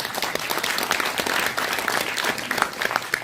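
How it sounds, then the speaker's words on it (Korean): Audience applause at a Korean lecture-style gathering, a steady dense wash of many hands clapping throughout, fairly close and even, with no talk over it. "박수 한번 쳐주십시오"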